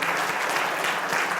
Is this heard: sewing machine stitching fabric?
no